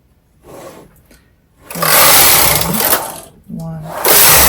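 A bulky knitting machine working rows of yarn, its carriage passing back and forth in loud, rushing sweeps with mechanical whirring, close by.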